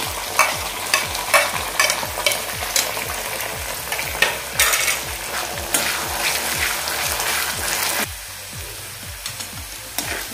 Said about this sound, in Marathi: आता यामध्ये मी कांदा घालते आणि कढीपत्ता सुद्धा घालून घेते मध्ये.